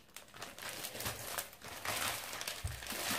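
Plastic bag crinkling as an online order is unpacked, irregular rustles and crackles close by, fairly quiet, with a few soft handling thumps and no talking.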